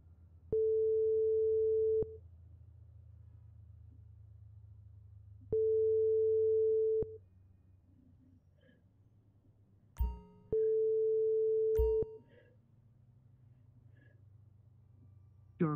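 An unanswered telephone call: three long, steady ringback tones repeating at even intervals, with a couple of faint clicks between them and no voices.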